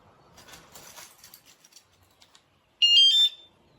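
A Wsdcam 113dB wireless vibration-motion bike alarm mounted on a bicycle frame lets out a sudden, loud, shrill electronic tone that lasts about half a second, after quiet handling clicks and rustling.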